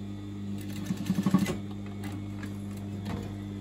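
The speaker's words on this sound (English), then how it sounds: "I'm going to put the needle down into the fabric, and I'm literally doing the tiniest couple of stitches" A sewing machine stitches a short tack on a lined curtain hem, giving a quick burst of five or six rapid mechanical clicks over a steady motor hum, close and clear, with no talking.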